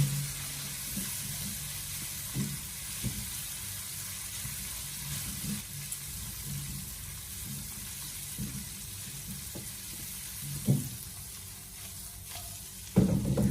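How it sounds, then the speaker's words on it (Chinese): Bean curd sticks and meat stir-fried with soy sauce in a wok, with a soft steady sizzle and scattered scraping stir strokes, fairly quiet, ending with a louder clatter. "然后再继续的给它翻炒几下，把它翻炒均匀"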